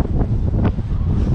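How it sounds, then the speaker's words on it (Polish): Strong mountain wind buffeting the microphone, a loud continuous roaring rumble with gusty surges, close and unbroken. "O Jezus, tak wieje."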